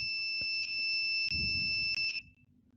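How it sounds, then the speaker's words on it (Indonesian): A steady, loud electronic buzzer from a home security door lock sounds continuously for about two seconds before cutting off, with faint handling noise underneath. "maka buzzernya akan menyala lagi"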